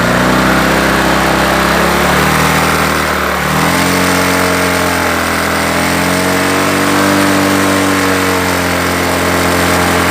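Motorcycle engine at close range with newly wired charging regulator, a loud continuous drone that steps up in pitch as the throttle opens and then holds a higher steady rev.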